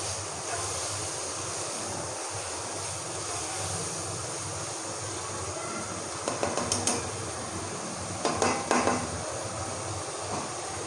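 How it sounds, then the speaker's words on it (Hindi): Thick-cut potato chunks roasting in a pan for aloo palak give a steady, close sizzling hiss, with a few sharp metallic clinks of a utensil against the pan near the end. "हमें 2 मिनट हो गए हैं आलू को अच्छी तरह भूनते हुए"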